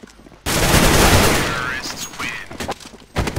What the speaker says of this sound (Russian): И сам при этом, кстати, выстрелил.